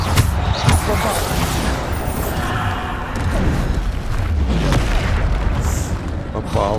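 Bombarda spell explosions in the Hogwarts Legacy video game: loud, booming blasts and a continuous deep rumble with bursts and crackles, while a voice talks over the game sounds.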